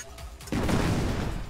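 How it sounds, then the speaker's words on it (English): A landmine blast setting off a grenade in the fighting game Marvel vs Capcom Infinite: a few light pops, then a sudden loud burst of explosion that rumbles on to the end. "Now you see here that landmine explosion actually prematurely set the grenade off."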